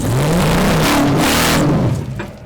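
An off-road rig's mid-pitched engine revs loud and close, pitch rising and wavering as it crawls up a rock ledge, then easing off near the end.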